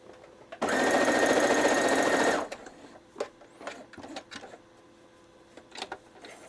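Sewing machine running a straight stitch in one loud, steady burst of rapid needle chatter lasting about two seconds, followed by quiet handling clicks and taps.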